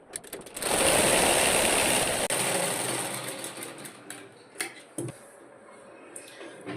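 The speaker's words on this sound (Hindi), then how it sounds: "अब इस पे हम यहाँ से बड़ी सिलाई चलाएंगे।" A sewing machine runs a long straight stitch on fabric for a baby frock, a loud continuous whirring burst for about two seconds that then slows and fades into scattered ticks and clicks of the mechanism.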